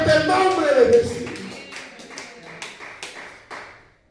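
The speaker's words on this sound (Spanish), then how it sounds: "aplauda fuerte el nombre de Jesús" A church congregation claps loudly in praise, a speaking voice fading at the start before a run of rhythmic, evenly spaced claps that gradually soften.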